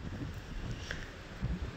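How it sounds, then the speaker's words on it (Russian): Strong wind gusts outdoors at a rural homestead in spring, a brief low rumbling buffet against the microphone with slight swells and no speech. "какой же ветер"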